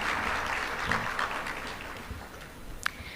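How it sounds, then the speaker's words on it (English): A crowd applauding steadily, a dense wash of clapping that holds for a few seconds at moderate volume. "huge round of applause"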